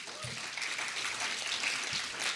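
Audience applause during a lecture on general education in American colleges, a broad, steady wash of clapping lasting a couple of seconds at moderate distance with no speech over it.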